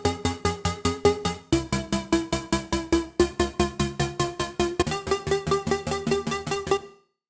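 Synth Lift Me preset in Serum, a future bass style patch, pulsing rapid rhythmic chord stabs in four repeating bars, each hit plucky and decaying, bright and dense, ending suddenly without any talking.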